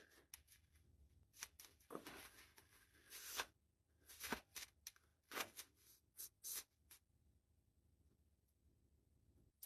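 A stiff stack of tarot cards is shuffled in quiet bursts of soft riffling and flicking, with irregular pauses between the handfuls and no talking.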